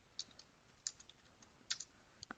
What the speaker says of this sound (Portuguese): Eu consigo entrar com os dados digitando pelo teclado